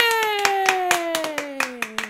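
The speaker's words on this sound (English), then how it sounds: "I'm trying to clap away from the mic" Hands clap in a steady, moderately quick rhythm, about a dozen sharp claps kept slightly off-mic, over a sustained tone that slowly drops in pitch during a podcast's 100th-episode opening.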